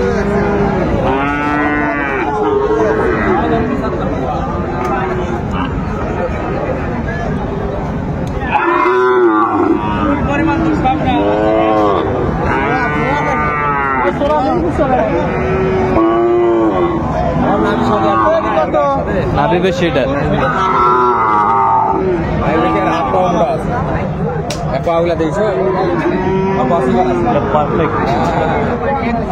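Sahiwal cattle and young bulls moo at a cattle market in Gazipur. Loud, close moos and bellows come repeatedly through the scene, with people talking and bargaining in between.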